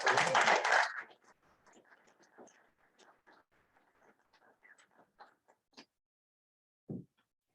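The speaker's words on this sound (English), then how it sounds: "Give them all a round of applause" A Rotary meeting audience claps: a dense burst of applause at first, then it thins quickly into scattered, fading individual claps, with one last low knock near the end.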